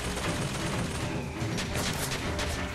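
Dense, continuous gunfire in BioShock Infinite, a steady barrage of shots aimed at the player that fills the whole stretch with loud, overlapping bursts and no talking.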